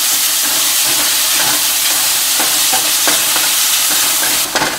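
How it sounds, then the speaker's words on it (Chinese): Mushrooms stir-fried with a little chili in a hot pan give off a loud, steady sizzle and hiss throughout, with occasional scraping stirs and no voices. "这个蘑菇倒进来，将蘑菇的香味煸炒出来"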